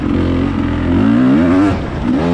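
A hard enduro dirt bike engine racing in Iowa, revving up under more throttle with a loud, close buzzing whine that climbs, dips briefly and rises again.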